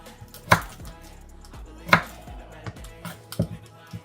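Cassava being chopped into small pieces for dumplings in a home kitchen, three sharp, loud knife strikes on a board spaced well apart, with quieter knocks and taps between them.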